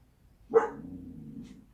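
One sharp dog bark rings out at moderate distance, trailing into a low, brief rumbling whine before it goes quiet.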